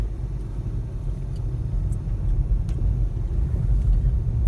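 8th-generation Honda Civic LX-S in first gear towing a trailer up a sloped driveway, a low steady engine rumble building slightly in loudness, with faint light rattles above it.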